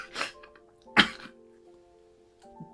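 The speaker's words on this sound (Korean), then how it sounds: "기침이 갈수록 심해지네." A child's harsh cough bursts out twice, a short one and then a louder, sharper one, followed by a faint throaty sound, with quiet around them.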